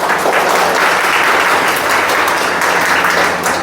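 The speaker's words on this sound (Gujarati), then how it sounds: "આપણે સૌ તેમનું તાળીઓથી સ્વાગત કરશું" An audience at an organization's gathering breaks into loud, dense applause to welcome a visiting family, a continuous wash of many hands clapping at close range without pause.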